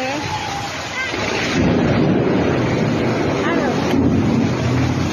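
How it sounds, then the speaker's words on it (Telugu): Large hailstones pelt down in a heavy hailstorm, making a loud, dense, continuous roar that swells after the first second and holds steady. "ఐస్ గడ్డల వాన"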